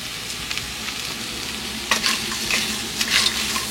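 Crab frying in a pan is stirred lightly, with a soft sizzle running under scattered close scrapes and clinks of the spoon against the pan, which grow a little louder toward the end.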